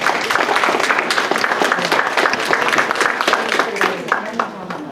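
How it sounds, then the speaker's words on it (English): An audience applauds after an Eagle Scout fraud-prevention presentation, many hands clapping steadily and fairly close for several seconds, with voices talking over the clapping before it thins out. "Can we get a round of applause, folks?"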